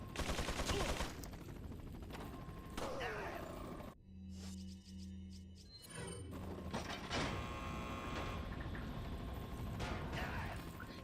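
A Gatling gun firing in Resident Evil 4: rapid, dense automatic gunfire at moderate level, broken by a brief quieter gap in the middle before the rattling burst resumes.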